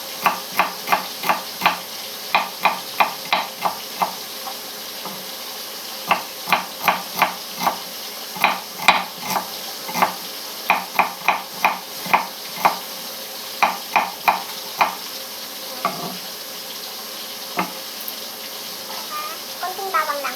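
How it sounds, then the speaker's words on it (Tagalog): Onion and garlic fry in a pan, a steady background sizzle broken by sharp, rhythmic clacks of a utensil stirring and tapping, repeated in quick bursts over about twenty seconds. "Ayan guys, nagpiprito na ako."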